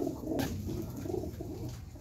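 A white domestic pigeon coos in low, throaty, rolling notes, close and fairly soft, with no other sounds over it.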